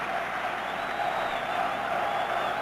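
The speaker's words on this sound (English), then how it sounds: "Listen to that cheering section down below us now." Cheering section of a college football crowd at Notre Dame in South Bend, Purdue game in 1968: a broad, steady wash of distant crowd noise and applause, continuous and moderately loud, with no clear voice on top.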